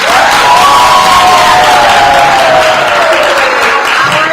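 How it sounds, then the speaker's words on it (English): Loud, steady applause and cheering from a crowd at a graduation ceremony, dense and continuous throughout with raised voices mixed in. "let's give them the applause they deserve"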